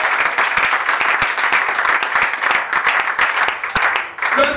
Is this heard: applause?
yes